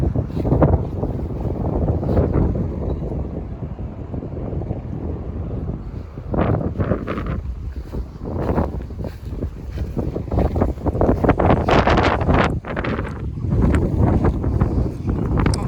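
Heavy wind buffets the microphone outdoors at Edisto Memorial Gardens in Orangeburg, South Carolina, in loud, rumbling gusts, swelling and easing throughout with no clear voices.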